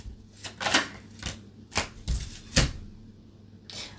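Tarot cards are shuffled close by in irregular bursts of crisp flicks and soft slaps, with short gaps between handfuls.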